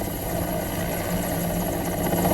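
An army helicopter hovers during a rescue, its engine and rotor a loud, continuous droning roar that stays steady throughout without any speech.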